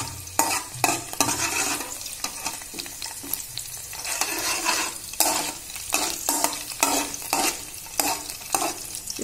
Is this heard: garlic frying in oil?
yes